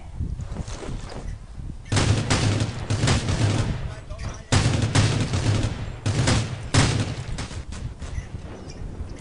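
Gunshots in the Rule of Survival video game fire as loud, sharp volleys in repeated clusters, with pauses between them and a voice talking underneath.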